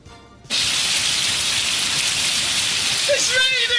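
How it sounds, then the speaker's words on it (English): Rain falling outside in North Carolina starts abruptly as a steady, loud, close hiss of drops on surfaces that continues throughout, with a brief faint voice near the end. "It's raining! It's raining!"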